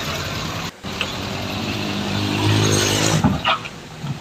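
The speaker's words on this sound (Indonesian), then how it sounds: "Ini truk-truk pengangkut tebu loh" Sugarcane-hauling trucks crawling in slow, congested traffic on the road toward Lumajang: a continuous rumbling diesel engine drone close by, with a brief dropout and a few faint clunks and rattles near the end.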